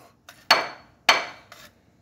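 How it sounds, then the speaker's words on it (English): A solid hammer being handled and struck, giving two sharp ringing metallic hits with a few lighter knocks and clatters between them, close and clear with no talking. "This is a solid hammer."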